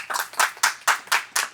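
Hands clapping in a church service, six crisp, evenly spaced claps in quick rhythm, close and clear with no talk over them.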